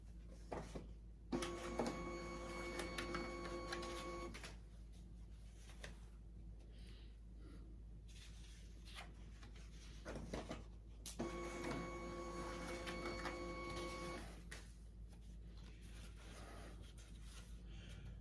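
Plustek Z300 photo scanner feeding old photos at 300 dpi, giving two mechanical whirring passes with a steady motor tone over a constant low hum, separated by quieter handling sounds.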